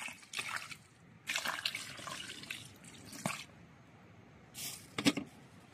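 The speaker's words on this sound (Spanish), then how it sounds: "ya comenzamos a aplicar el agua encima" Water poured from above onto soil and charcoal around the base of a citrus tree, coming in several separate splashing bursts with quiet pauses between them, close by and moderately loud.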